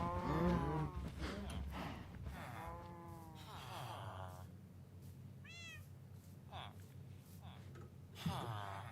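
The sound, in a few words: cows mooing in Minecraft video game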